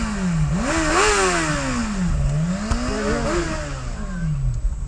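A motorcycle engine revs loudly and close by, its pitch rising and falling in repeated swoops over a steady rumble, with no talk over it.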